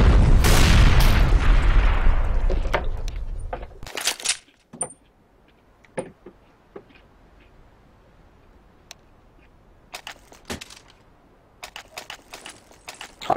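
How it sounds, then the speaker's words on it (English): A bomb detonates in a CS:GO match, a loud, sustained roaring blast for about four seconds that then cuts off, followed by scattered faint clicks and ticks. "It is going to explode."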